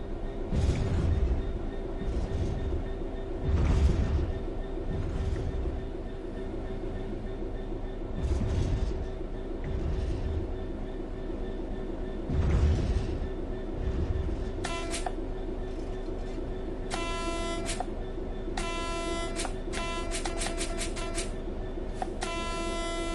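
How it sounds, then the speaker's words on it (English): A train in a train simulator game rumbles and hums steadily as it coasts on level ground, with periodic low thumps and a series of rapid electronic beeps later on. "The train will then coast on level ground, and the train will only slow down very gradually."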